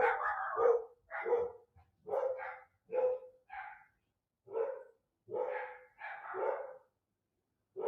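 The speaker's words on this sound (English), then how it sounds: "I can't even with these dogs." Several dogs bark in repeated bursts, loud and fairly close, with short pauses between volleys and an occasional higher yip mixed in.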